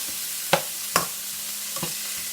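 Vegetables for a shrimp and pineapple stir fry sizzle steadily in hot oil, with a few soft scraping knocks as they are tossed around the pan.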